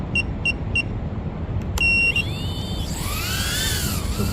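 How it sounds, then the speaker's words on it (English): Buzzer on an Emax TinyHawk 1S micro drone gives three short bright beeps, then a longer tone, followed by rising whine over steady outdoor background noise in a park. "So this guy does have a buzzer."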